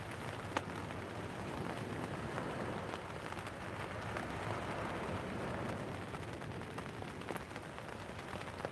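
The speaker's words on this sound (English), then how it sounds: "And guess what? It's raining." Steady rain falls on a shingle beach at Southsea while fishing, a dense, even hiss of drops with occasional sharper patters, continuous and close.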